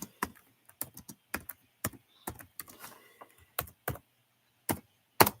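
Keys on a computer keyboard clatter in uneven, slow bursts of sharp taps with short pauses between them, close and fairly quiet.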